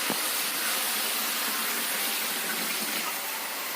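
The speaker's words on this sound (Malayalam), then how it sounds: "ഇനി നമുക്ക് ആവശ്യത്തിനുള്ള വെള്ളം ഒഴിച്ചു കൊടുക്കും" Water is poured into a pot of chicken curry, a steady, close, hissing rush of liquid lasting a few seconds with no voices.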